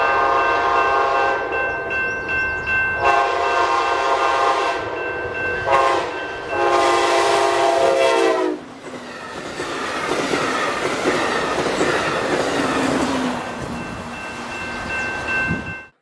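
Amtrak 350 passenger train, led by a Charger locomotive, rolls past loudly with a sustained horn blast, then a steady rush of wheels and clattering cars fading toward the end.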